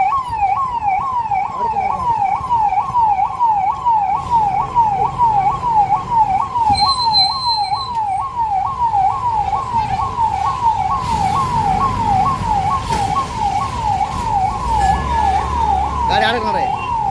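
A fire engine siren wails continuously in a fast, loud up-and-down pattern on a city street in Beed, with traffic noise and occasional voices underneath.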